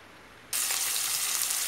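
Sliced onion drops into a hot pan and breaks into a sudden, loud, even sizzle that continues unbroken, with no voices over it.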